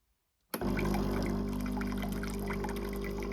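After a moment of silence, a Ninja Luxe Cafe Premier Series coffee machine starts dispensing hot water with a sudden, steady loud pouring rush over a low pump hum.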